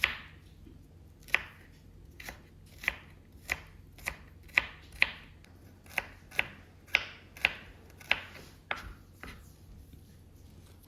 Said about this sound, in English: I will slice or chop the red onion into bite size and then chop the garlic.